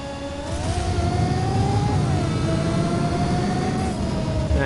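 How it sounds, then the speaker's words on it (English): Sustained engine roar of a car hitting nitrous boost in Just Cause 4, loud and steady throughout with a rising whine that climbs and shifts pitch midway. "I used my nitrous boost for that"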